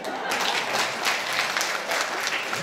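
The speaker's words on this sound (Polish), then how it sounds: "Dajcie brawo, jak się zgadzacie." A live audience at a women's evening event in Ulan applauds, a dense, sustained wash of many hands clapping at once, loud and even throughout with no break.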